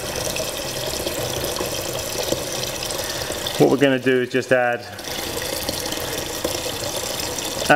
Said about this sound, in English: I'm blessed with running water now in this studio.